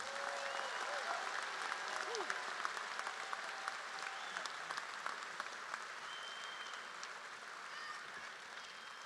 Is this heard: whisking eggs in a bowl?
no